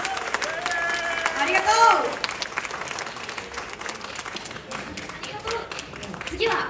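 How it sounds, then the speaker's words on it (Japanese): An audience applauds at an idol concert in a live music venue, a burst of clapping that swells and then thins out as a voice speaks over it briefly. "ロアちゃんに大きな拍手をお願いします"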